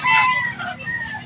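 A native chicken rooster crows once at a pet market in Bocaue, Philippines, loud and close, its drawn-out call rising and trailing off over a faint background murmur.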